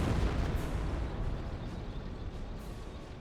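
Landmine blast hitting a Cromwell tank in the strategy game Company of Heroes, a loud broad explosion rumbling and slowly fading, with no talk.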